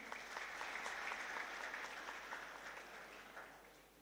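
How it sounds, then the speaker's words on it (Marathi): Audience applause at a school education society's annual event, a dense sustained clapping from a crowd that gradually fades toward the end, with no voices over it. "तर एकदा स्वतःसाठी सगळ्यांनी टाळ्या वाजवा"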